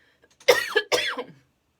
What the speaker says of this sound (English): having to listen to me clear my throat now